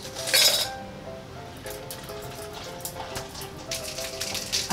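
Ice cubes rattle and clink against a glass as a chilled drink is shaken, starting with a loud burst of clinking and then settling into steady, irregular tinkling close by.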